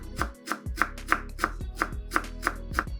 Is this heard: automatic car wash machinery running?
no